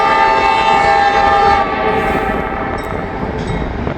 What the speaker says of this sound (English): Horn sound kind of different